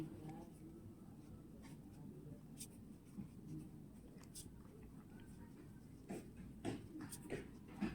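Numbers being written by hand on paper during a math lesson, faint pen scratches growing into clearer quick strokes toward the end, alongside a low quiet voice.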